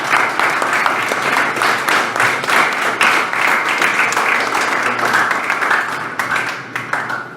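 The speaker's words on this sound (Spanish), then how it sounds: "pero fuerte aplauso sostenido" Sustained applause from a lecture audience at a bar association event, many people clapping steadily and loudly for over seven seconds with slight swells and a gradual thinning toward the end.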